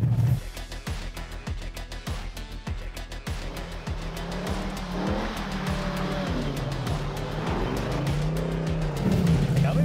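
A 1992 Ford Mustang GT V8 runs with a loud, rumbling exhaust, giving rapid rhythmic pulses that rise into a sustained rev, close up and with no talk.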